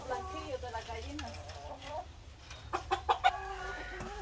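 Hen clucking in a rural farmyard, a few soft, close clucks and calls over low background noise, with sharper bursts near the end while people talk nearby.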